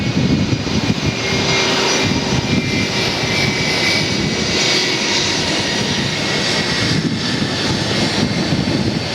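Aircraft engine roar from an airplane at Atlanta's airport, a loud, steady broadband rumble and whine sustained throughout with slight swells, no voices.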